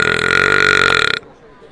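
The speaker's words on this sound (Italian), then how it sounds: "Perché non l'hai fatto ruttando?" A single long, loud, rumbling burp lasts just over a second in a comedic street interview, then cuts off into quiet.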